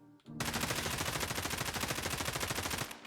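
A beginner weapon build in Escape From Tarkov fires one rapid, loud automatic burst of close shots lasting about two and a half seconds, then stops abruptly.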